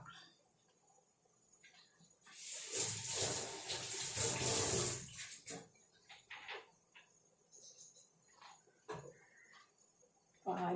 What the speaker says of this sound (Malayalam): ഒരു കുപ്പി കഴുകി വെച്ചേക്കാം